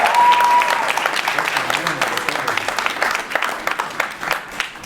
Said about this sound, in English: can we give a nice round of applause for Larry doing such a great job